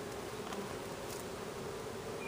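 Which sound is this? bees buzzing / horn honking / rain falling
bees buzzing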